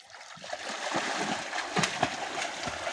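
A young boy swims and splashes in a backyard country-house pool, the water sloshing and splattering close by in steady, uneven bursts with a few sharper splashes.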